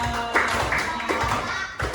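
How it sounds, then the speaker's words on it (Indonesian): A group of students claps hands for their team, a loud, fairly steady clatter of many palms close by. "tepuk tangan buat kelompok kita"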